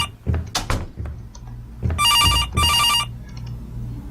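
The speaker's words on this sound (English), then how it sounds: "The phone's ringing." A telephone rings in the From Next Door video game: two clear, bright bursts of electronic ringing back to back, loud against a quiet room tone with a few soft thumps and footsteps before them.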